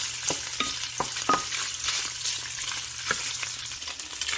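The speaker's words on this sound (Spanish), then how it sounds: "Una vez que ya está caliente el aceite, vamos a agregar las salchichas." Sausages frying in hot oil, a dense continuous sizzle near at hand with occasional stirring knocks and scrapes, no speech.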